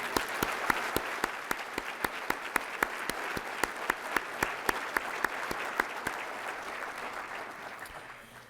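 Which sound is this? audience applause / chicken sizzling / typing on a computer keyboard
audience applause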